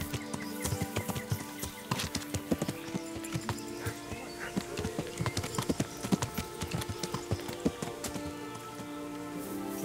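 Horse hooves clip-clop steadily in Kingdom Come Deliverance, a dense, rhythmic run of sharp hoofbeats with a brief whinny and faint rain-like patter in the background.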